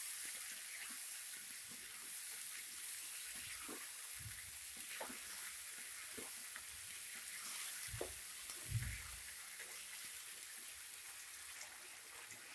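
Chicken pieces with ground masala sizzle steadily in a hot pan while a spoon stirs and scrapes at intervals, a soft continuous hiss with occasional knocks and no talking.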